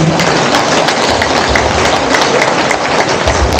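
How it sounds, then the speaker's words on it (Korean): An indoor audience at a Catholic lecture gives a priest a sustained round of dense, loud applause, steady throughout without voices. "우리 고생하신 바오로 신부님 큰 박수 부탁드립니다"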